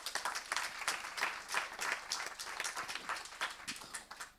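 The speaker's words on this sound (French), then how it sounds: "Cheikh Oumar, venez me rejoindre, on peut l'applaudir" An audience at a round-table event applauds a professor, dense clapping from a roomful of people that swells and ebbs in soft waves over several seconds, moderately distant and without speech.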